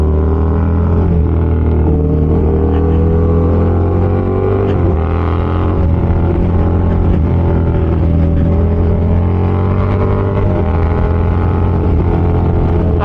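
Motorcycle engine, a KTM Super Duke, droning steadily as it rides along a road near Cavinti, with rising harmonic revs and wind noise, loud and close throughout with no talk.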